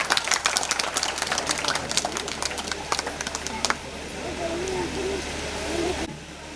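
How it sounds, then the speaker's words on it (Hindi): Audience applause for Chitra ma'am at a Bank of Baroda retired officers' association event in Udaipur, a dense burst of clapping that thins into softer crowd murmur. "उसके लिए चित्रा मैम को जोरदार तालियां"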